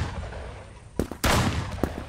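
A shotgun fires in a video game, with a few loud, abrupt blasts close together and no talk over them.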